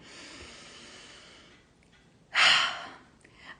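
A single deep inhaled breath, close and clear, rising sharply after a quiet pause with a faint trailing breath at the end, during a guided forgiveness meditation about anger.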